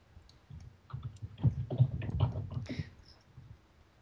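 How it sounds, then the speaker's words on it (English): Computer keyboard typing comes through voice chat during a modded Minecraft multiplayer session, with light, irregular clicks clustered in a short burst, faint and slightly muffled, with some low background noise. "Yeah, I'm hearing you type. I don't hear you talk, but I hear you type."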